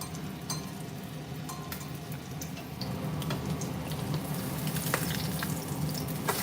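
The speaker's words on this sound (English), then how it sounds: "And then you cook in oil." Korean pancake batter made from pancake powder mix and egg fries in oil in a pan, giving a steady close sizzle and crackle that grows slightly louder partway through, with faint clicks and no talking.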